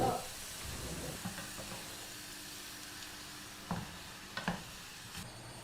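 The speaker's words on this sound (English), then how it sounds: "Stir it up." Octopus is being stirred with olive oil in a hot pan, giving a faint steady sizzle with a few soft scraping stirs and utensil taps scattered over it.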